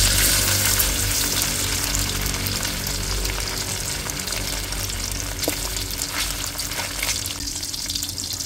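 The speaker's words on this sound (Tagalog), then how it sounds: "at ipiprito po muna natin yung squid ball" Squid balls frying in hot oil while pancit canton with shrimp is cooked, giving a steady, loud sizzle and crackle that fills the whole stretch, with a few brief clinks near the end and no talking.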